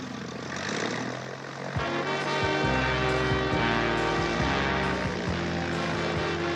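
A propeller airplane takes off, its engine droning loud and steady with a throbbing rhythmic pulse and rising pitch, close and continuous without speech.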